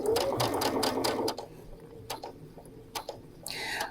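A Brother sewing machine stitches piping along a folded fabric edge, with rapid mechanical bursts of needle motion stopping and starting, close and moderately loud, followed by short quieter clicks and a final brief run.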